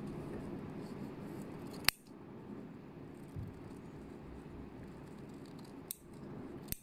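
Scissors cut through a sewing pattern pinned in place, making a steady close snipping and rustling with a couple of sharp blade clicks. No one speaks.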